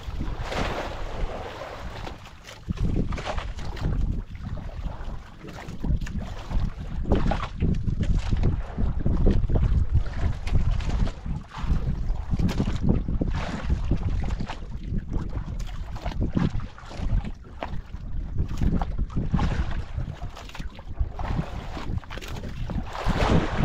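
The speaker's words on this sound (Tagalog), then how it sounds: "Dumaan naman yung isang bangka," A boat passes by at sea, its rumbling motor heard under gusting wind and lapping water, a steady, fairly loud wash that continues throughout.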